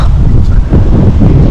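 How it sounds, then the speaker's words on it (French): Steady gusts of wind buffet the microphone outdoors while fishing with a lure on a hot day, a continuous low rumbling roar with no talk. "Il y a un peu de vent."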